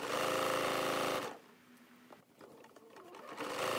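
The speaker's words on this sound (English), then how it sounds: "just doing the last 3 rows, chain stitching them together" A domestic sewing machine runs in a fast continuous burst while chain stitching quilt rows together, loud and close. It then stops abruptly, leaving faint handling clicks before the whir starts to return.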